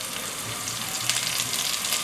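Green onion dropped into hot clean vegetable oil for spicy chicken, giving a bright, steady sizzle with crackling bursts close by and no voices.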